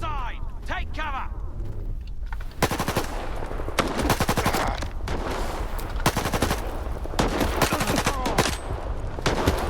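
Rapid automatic gunfire bursts from the shooter game S.T.A.L.K.E.R. 2 Heart of Chernobyl, loud and close, firing in repeated volleys with short pauses, while someone shouts and talks over the shooting.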